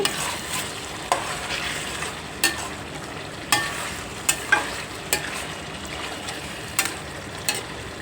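Andhra-style mutton fry sizzles steadily in a pan, with a continuous hiss broken by sharp, irregular scrapes and clacks of a spoon being stirred, close and moderately loud with no talking.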